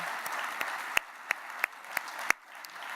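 Audience applause at the Rammys 2016 awards gala, a soft wash of many hands clapping at a moderate distance with a few sharper individual claps popping out, fading near the end.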